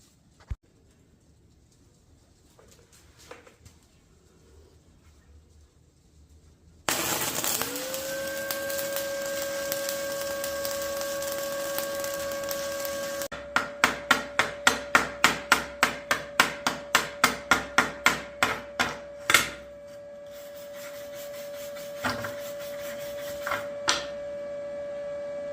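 ARCCAPTAIN MIG 200 multi-process welder running a lap joint on scrap steel: after a quiet start a steady hiss and hum switches on, then a fast run of sharp ticking bursts, then the hum carries on alone with a few last clicks.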